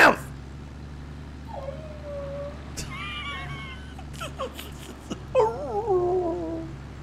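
Farm dog in Farming Simulator 22 giving drawn-out whimpers and rising, wavering howls in a few separate bursts, fairly close, over a low constant hum.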